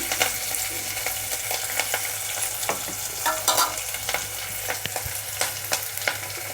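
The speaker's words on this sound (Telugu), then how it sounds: "ఉల్లిపాయలు ఫ్రై అవుతున్నాయి కదా" Onions fry in a pan with a busy, crackling sizzle and frequent spatula clicks and scrapes against the metal, close and fairly loud throughout with no talking.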